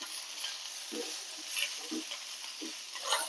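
Okra being stirred with turmeric powder in a frying pan: a soft steady sizzle with three distinct spoon scrapes spaced about a second apart, close and moderately quiet, with no voices.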